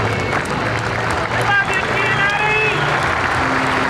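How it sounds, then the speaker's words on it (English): Crowd applause at a 2001 Florida 5A high school baseball state championship, Seminole vs. St. Thomas Aquinas, as a steady broadband wash of clapping and stadium noise under an announcer's talk. "that's a round of applause for Richard Giannotti"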